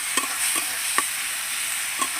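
Spices frying in a pan give a steady, bright sizzle, with a few soft scrapes of stirring spaced through the short stretch, close and fairly loud with no talking.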